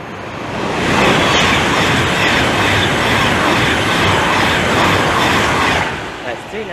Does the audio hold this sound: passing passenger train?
yes